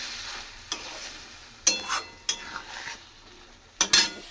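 Shrimp and pointed gourd curry cooking in a pan, with a soft bubbling sizzle under several sharp scrapes and clinks of a utensil stirring against the metal, close and moderately loud with no talking.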